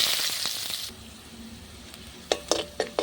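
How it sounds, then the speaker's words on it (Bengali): Whole cumin, bay leaf and onion fry in hot oil as a tempering, a fairly faint sizzle that fades after the first second, followed by a few sharp clinks of stirring near the end. "ফোড়নটা খুব ভালো করে ভাজা হয়ে গেছে"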